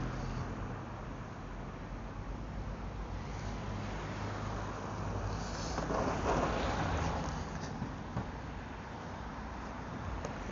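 Street traffic in an older neighbourhood of Ponta Delgada in the Azores, with cars passing on a road in poor condition as a steady rushing wash that swells briefly as one vehicle goes by, heard alone without talk.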